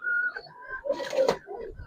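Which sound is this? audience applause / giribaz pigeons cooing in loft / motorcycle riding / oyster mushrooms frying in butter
giribaz pigeons cooing in loft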